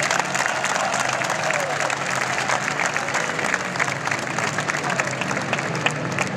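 Crowd applause at the International Tournament for the Częstochowa Mayor's Cup speedway event, honoring rider Max Drabik; steady, dense clapping from a large audience sustained throughout without pause.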